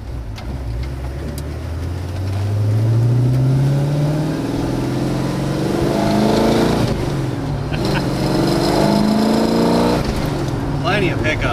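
A 1965 Pontiac GTO Tri-Power accelerates from inside the cabin, its engine note climbing through the gears with a deep, rising roar and shifts, while people talk over it.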